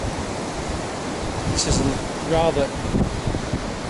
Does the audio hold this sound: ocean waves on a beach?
yes